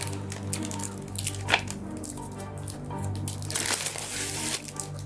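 Plastic coin packaging crinkles and crackles up close in irregular bursts as a commemorative 5-hryvnia coin is opened, with a steady low hum underneath.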